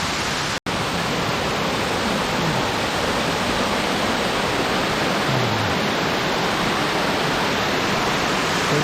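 A mountain waterfall in a deep gorge pours steadily, a loud, dense, unbroken rush of water close by with no voices.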